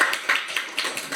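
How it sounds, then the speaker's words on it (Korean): A short burst of evenly paced claps from a small audience at a panel discussion at the National Assembly, crisp and fairly close, with no talk over them. "큰 박수 부탁드립니다."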